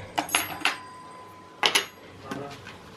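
Forks and plates are set down on a table, giving a few sharp ceramic and metal clinks in two close clusters, with quieter pauses between.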